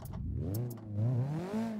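A drift car's engine in the CarX drifting game on the Tsukuba Fruits Line, revving and climbing in pitch with a raspy harmonic growl, loud and close, with a brief dip before revving up again.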